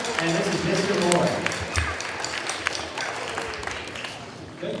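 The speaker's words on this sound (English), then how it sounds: "Can we have a nice round of applause?" An audience at a high school band and chorus holiday concert gives a round of applause. Dense clapping swells for a couple of seconds, then thins out and fades, with voices mixed in.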